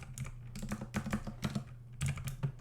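Quick, uneven clicks of a computer keyboard as a command is typed into a Linux terminal, close and fairly quiet, with brief pauses between bursts of keystrokes.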